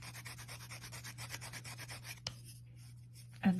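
A small sanding stick rubs back and forth over a polymer clay millefiori pin in quick, rhythmic strokes over a low steady hum, then stops abruptly, leaving a quiet pause and a final soft knock.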